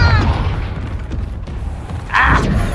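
Fiery Confringo blast spell in the Hogwarts Legacy video game, a short loud booming burst near the end after a stretch of low rumbling game sound.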